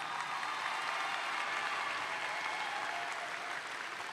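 A high school graduation crowd claps in a steady, even roar of applause that carries faintly from a distance and holds at the same level throughout.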